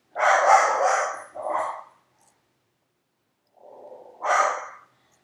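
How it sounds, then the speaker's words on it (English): A dog barks at strangers, two sharp close barks in quick succession followed by a pause, then a low growl rising into another bark, loud and alone without talk. "My dog is barking to strangers."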